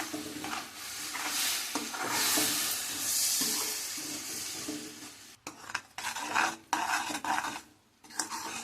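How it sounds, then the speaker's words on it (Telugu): Jaggery syrup being stirred in a pan over heat, with a steady scraping swirl and soft sizzle that continues throughout, briefly breaking off and resuming near the end. "ఇలా కలుపుకుంటూ ఉండాలండి. పాకం వచ్చిందో లేదో చెక్ చేసుకుంటూ ఉండాలి."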